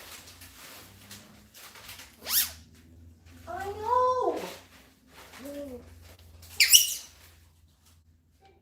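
Pet bird giving several short chirping calls and whistles indoors, close and fairly quiet, separated by pauses, with a person speaking briefly between them.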